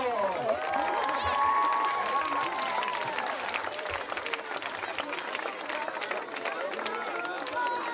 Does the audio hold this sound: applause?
yes